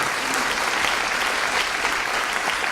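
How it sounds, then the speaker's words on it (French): Dense, sustained applause from a large audience at an awards ceremony, an even wash of many clapping hands throughout with no speech over it. "Big round of applause from Northern Ireland."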